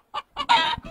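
A rooster at a Peruvian breeding farm gives a few short, close, loud clucking calls, the last one stretched into a brief squawk, with no talking over it.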